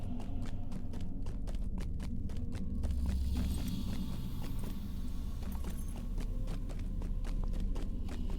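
Horse or goat mount hooves in the video game Lord of the Rings Online, a steady run of soft, even clip-clop steps at moderate distance over a continuous low ambient drone.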